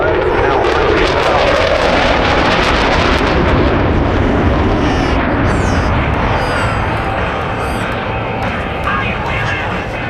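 Jet aircraft flying a display at the Blackpool airshow, a loud roaring engine rumble that sweeps and shifts as it passes, continuous and powerful, with a commentator talking over it.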